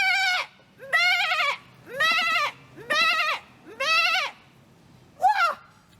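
Sheep bleat loudly and close by in a run of six long, wavering calls with short pauses between, the last one brief and clipped.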